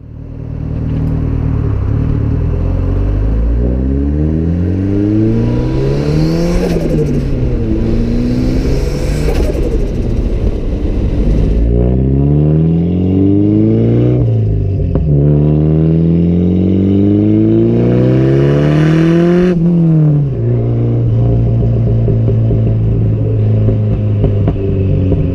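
A 1991 Toyota Celica GT-Four ST185 Carlos Sainz edition, a rare Group A rally homologation car, revs loudly and close up. Its engine note climbs and falls repeatedly in rising pitch sweeps over a constant throaty rumble, with no talking.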